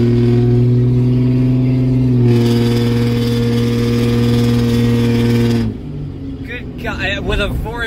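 Cummins diesel truck engine with a 4-inch straight pipe, idling loud and steady with a deep throb, the pitch and tone shifting partway, then dropping away near the end.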